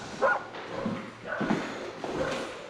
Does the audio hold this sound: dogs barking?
yes